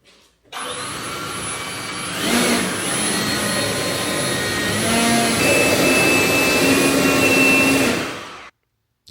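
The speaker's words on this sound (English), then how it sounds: "I'm gonna take a blower and blow all this coolant away from everything down in here" Compressed air blasts steadily from an air blower, clearing spilled coolant off a Ford Focus ST engine bay, a loud continuous rushing hiss lasting several seconds before it cuts off abruptly.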